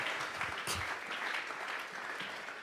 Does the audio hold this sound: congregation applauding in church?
yes